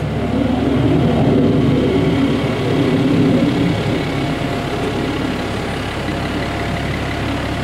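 All-wheel steer truck driving in crab walk, its heavy diesel engine a low steady rumble that swells slightly then settles, heard from nearby without voices.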